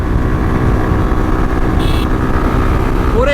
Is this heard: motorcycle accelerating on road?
yes